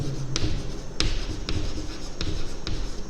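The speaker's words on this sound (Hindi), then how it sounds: "तो मैं यहाँ पे लिखता हूँ" A pen writing on paper, close and quiet, with repeated short scratchy strokes at a steady rhythm and no speech.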